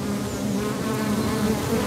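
A honeybee buzzes loudly and close by, a steady, dense droning hum that continues without a break and without any other sound.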